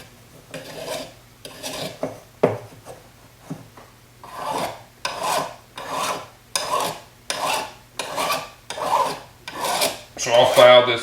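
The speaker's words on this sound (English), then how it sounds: "So I'll file this first" A metal file smooths the edges of sterling silver pendant pieces in steady, rhythmic rasping strokes, about one per second, close and alone.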